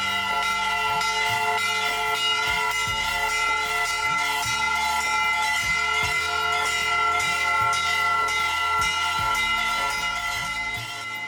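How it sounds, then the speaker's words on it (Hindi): Temple bells, gongs and conch ring out during a Hindu aarti at a temple in Bhiwani district, Haryana, a loud, continuous clangor of repeated rhythmic strikes over sustained ringing tones, with no talking. "आरती के समय घंटा, घड़ियाल और शंख ध्वनि से वातावरण गूंज उठता है"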